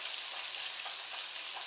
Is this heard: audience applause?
no